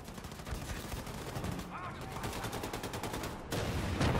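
Rapid automatic gunfire in the video game Wolfenstein 2: The New Colossus, a fast, steady stream of shots at moderate volume that grows louder near the end.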